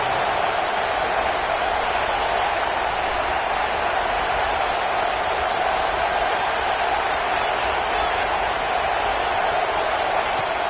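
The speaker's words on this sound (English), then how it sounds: "Listen to the crowd energy here in the early going." A video-game stadium crowd in College Football 26 roars as a steady, dense wash of noise, loud and unbroken throughout, with a faint murmur of talk beneath it.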